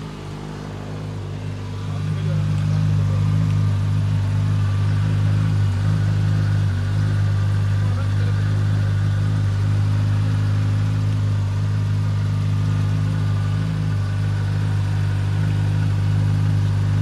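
A Suzuki GSX 1000 motorcycle engine runs steadily at idle, loud and close, with a low droning rumble that starts softer and swells after a couple of seconds.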